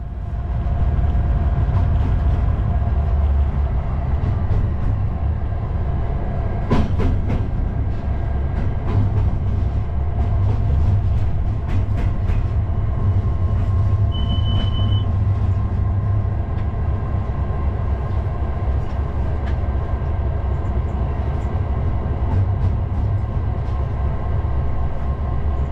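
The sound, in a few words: Class 59 locomotive train running on rails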